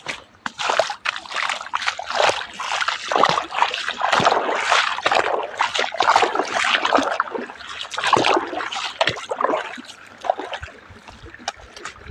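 Irregular sloshing and splashing of water close by, bursts of churning slapping against a hard container, fading slightly toward the end.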